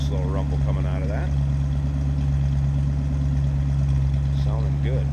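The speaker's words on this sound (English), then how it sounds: "Nice little rumble coming out of that." Steady low rumble of the 302 V8 in a 1964 Mercury Comet Caliente convertible idling nearby, with short bursts of someone talking over it at the start and end.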